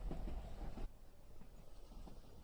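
Quiet rumbling rattle of a train carriage rolling along the tracks on the Hope Valley Line, a low steady clatter with creaking that drops slightly partway through.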